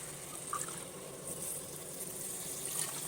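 Coconut milk pours steadily into a pot of rice, a soft continuous splashing and trickling that stays even throughout, fairly quiet with no talking.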